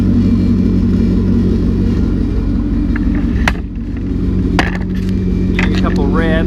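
A GM LS2 V8 long block rumbles close by on a cold day, its low steady drone swelling briefly as the throttle blips, with a short burst of voice near the end.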